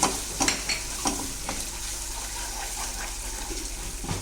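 Cloves, cardamom and cinnamon fry in hot oil for fish kalia, a steady close sizzle with scattered spoon scrapes and taps as they are stirred, no voices.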